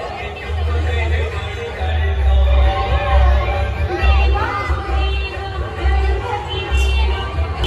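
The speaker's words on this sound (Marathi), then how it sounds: "सर बघा फुल गर्दी." A large festival crowd packs the Panvel Market Raja Ganesh pandal during aarti, a dense babble of voices with rhythmic low thumps, continuous and loud, while someone nearby talks.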